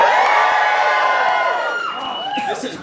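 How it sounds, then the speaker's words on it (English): A packed audience at a Halloween Horror Nights 25 Q&A event screams all at once, a loud, dense wall of high-pitched shrieks and whoops that holds for about three seconds, easing slightly before a few voices flare up again near the end. "If you guys are okay, let me hear you scream."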